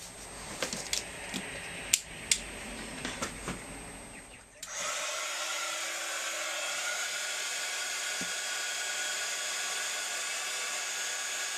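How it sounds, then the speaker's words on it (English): Scattered clicks and handling noises, then a steady, loud blowing hiss from a heat gun drying paint on sea canvas that runs without a break to the end. "Let's use my heat gun because it's a little bit quieter."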